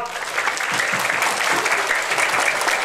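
Students at a Maulid celebration in an Islamic school burst into loud, sustained applause, a thick continuous roar of clapping that holds steady to the end.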